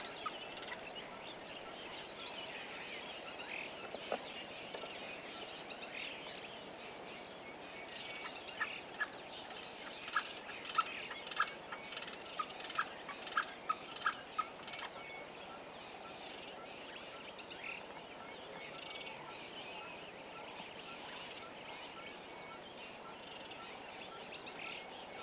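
Unseen birds call across the Tanzanian savanna, faint distant gobbling and chattering notes in loose clusters, busiest in the middle stretch, over a soft steady outdoor hiss.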